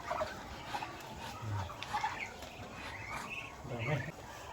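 Ducks being fed on a rural farm in Mindanao give soft, scattered calls and clucks under quiet, intermittent talk.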